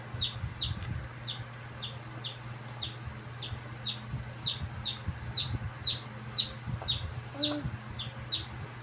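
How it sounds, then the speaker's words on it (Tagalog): Chicks peep steadily in a quick repeating series alongside small birds and quail at a fiesta, heard faintly over a constant low hum and background noise. "Kaya may mga sisiyo, ibon, pugo, ganun."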